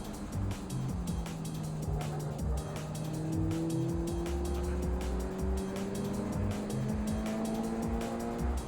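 A Subaru BRZ tS corners at Laguna Seca, its engine note climbing in steady rising tones while tires squeal and the car rotates through the turn, heard close from inside the car.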